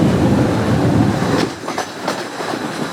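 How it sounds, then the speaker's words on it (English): Ravenglass and Eskdale Railway train running, a steady low rumble of the carriages that drops back around halfway as bright wheel clicks and squeals ring out over quieter rolling. "Oh, the train's gone further"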